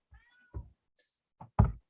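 A pet cat gives several short meows with quiet gaps between them, the last one the loudest and closest, with no voices around them.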